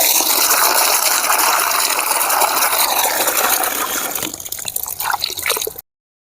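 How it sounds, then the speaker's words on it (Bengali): Jujube fruits are rinsed under a running kitchen tap: a steady, loud gush of water pours over them, then breaks into uneven splashes and drips before stopping abruptly. "কুলগুলো এবারে আমি ভালো করে ধুয়ে নিচ্ছি।"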